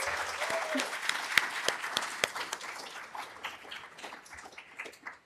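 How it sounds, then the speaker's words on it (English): Conference attendees give a round of applause for the host university, with scattered sharp claps over a softer wash of clapping that gradually thins out toward the end, plus faint voices in the room. "So can we please give them a round of applause?"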